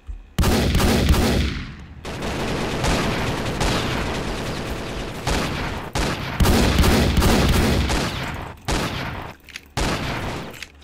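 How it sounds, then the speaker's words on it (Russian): Deck cannons firing in the Roblox game Zeppelin Wars, rapid overlapping volleys of booming shots that run almost continuously, with short gaps between bursts. "Садитесь на пушки и стреляйте в них."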